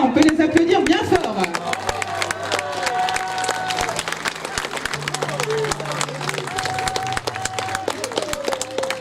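An audience claps for a costumed couple at a Venetian-style costume parade in Chanaz, scattered hand claps mixed with crowd chatter and voices throughout, with a few sharp, close claps standing out.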